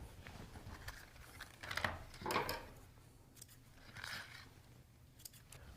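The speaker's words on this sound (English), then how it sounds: "Our next step is to cut the pieces of ribbon." Scissors snip through pieces of ribbon for a wreath, giving a few quiet, scattered cuts with soft rustling in between, close by and fairly faint.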